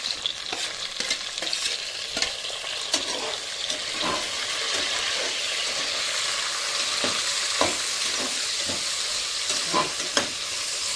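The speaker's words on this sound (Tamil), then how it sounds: "இப்போ வெங்காயம் நல்லா வதங்கிட்டு இப்போ நம்ம தக்காளி போடுவோம்." Chopped tomatoes fry with sautéed onions in a pan, giving a steady, close sizzle with repeated stirring scrapes and clinks throughout.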